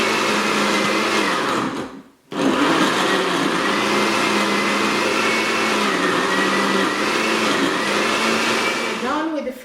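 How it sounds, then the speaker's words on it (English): A blender whirs loudly and steadily through a green smoothie, cuts out for a moment, then starts again and runs to the end, close up. "Now we are going to blend the first juice"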